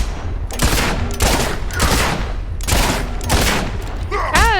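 Gunfire in the video game Fable, a series of loud repeated shot bursts in a steady rhythm, close and dominant, ending with a warbling game effect.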